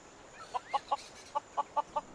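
A few chickens in Fallout 4 cluck in a run of seven short, evenly spaced calls, faint over a quiet background hiss, with no talking.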